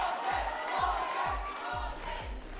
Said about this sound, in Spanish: Ahí está el aplauso para ti, Mon.